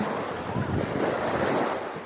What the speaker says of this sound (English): Now the wind is picking up. The water is getting stronger and stronger.